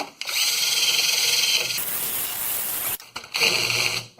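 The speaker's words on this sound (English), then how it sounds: "So we'll wire brush this top." Wire brushing the top of a ball joint on a 2008 Ford F-150 with a power tool, a loud, close, harsh whirring scrub in two bursts separated by a brief pause.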